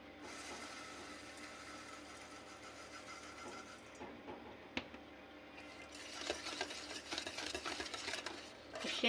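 Sugar and other ingredients being mixed into a cake batter for a stovetop pan cake baked without an oven, a steady scraping, clattering stir that runs throughout and grows busier and louder toward the end.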